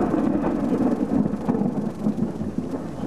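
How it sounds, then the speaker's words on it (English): A big thunder boom rolls through a severe thunderstorm with hail, a deep sustained rumble with rain hiss underneath, loud and close. "Another big boom."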